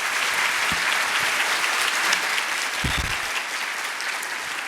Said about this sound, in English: I'd like everybody to give a great round of applause to the O&ESummit staff, the volunteers